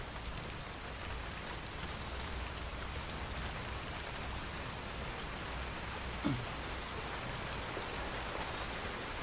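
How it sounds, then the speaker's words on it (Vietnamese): Drizzling rain falls in a steady, even hiss that fills the whole clip, soft and constant, with a single faint bump partway through and no voices. "Mưa lụi như này"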